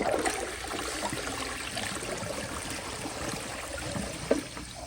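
A 1991 Cisa round toilet flushes with a steady rush of water that holds for several seconds, close and moderately loud, with a brief sharper knock near the end and trickling water running through.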